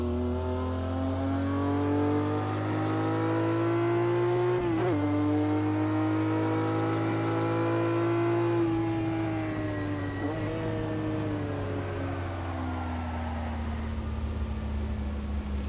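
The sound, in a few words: Ferrari Dino 206S Berlinetta engine revving in racing video game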